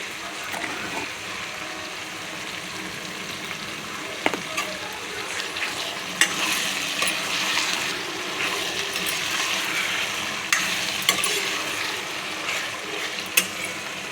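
Food simmers and sizzles in a pan while being stirred, giving a soft, steady bubbling hiss with occasional scraping clicks. The sound is fairly faint and close, with no talking.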